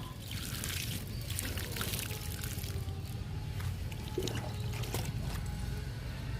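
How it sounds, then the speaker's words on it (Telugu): Steady splashing of water poured onto the soil and leaves of drumstick (moringa) plants runs throughout, with an occasional trickle and drip, fairly close and constant. "మునగ మొక్కలకి వాటర్ ఇచ్చేస్తున్నాను"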